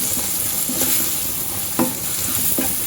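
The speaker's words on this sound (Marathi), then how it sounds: "यामध्ये आता आपल्याला घालायचं आहे दोन टेबलस्पून बेसन आपल्याला हे छानसं परतवून घ्यायचं आहे" Okra fried with gram flour in a pan, sizzling steadily up close while a spatula scrapes and stirs in irregular strokes, a couple of sharper clacks standing out, no voices.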